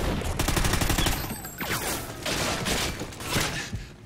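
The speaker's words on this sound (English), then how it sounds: "Where am I getting shot from?" Dense automatic gunfire from a Call of Duty match, loud and continuous, with rapid bursts layered over one another and a sustained rattling wash of shots throughout.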